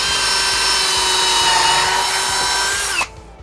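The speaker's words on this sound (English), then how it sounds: "Start drilling some more pilot holes." A power drill bores pilot holes into oak staves of a Japanese-style bench, a loud steady whine close by that runs for about three seconds and then cuts off abruptly, followed by quiet.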